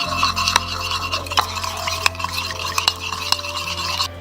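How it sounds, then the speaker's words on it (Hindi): A spoon stirs salt and ajwain into a thick gram-flour marinade for fish fry, giving a steady wet scraping and rubbing against a bowl, with a few sharp clinks, loud and close. "इसको हम मिक्स कर लेंगे, इतना मिक्स करें कि नमक बिल्कुल मिक्स हो जाए।"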